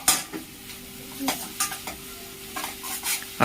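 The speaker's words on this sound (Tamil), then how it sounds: "ஒரு அரை வெங்காயத்தை வந்து உள்ள போட்டுட்டு நல்லா கிளறி விட்டுடலாம்" Half an onion sizzles softly in a frying pan while a spoon stirs it, giving irregular clinks and scrapes against the metal close by over a steady hiss.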